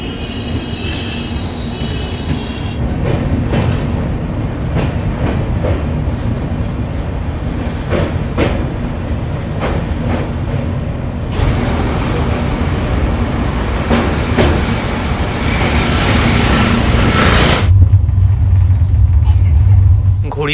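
The Kolkata Jammu Tawi Express rolls along the rails near Dakshineswar, a loud continuous rumble and clatter of wheels with rhythmic track thumps. The roar shifts and deepens near the end, and voices can be heard beneath it.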